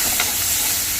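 Washed spinach dropped into a hot pan already holding turmeric, asafoetida and ground green chilli, giving a steady close sizzle with a brief stirring clatter near the start and no voices.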